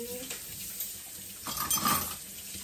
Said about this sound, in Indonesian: Inilah cerita ibu rumah tangga cuci piring hari ini.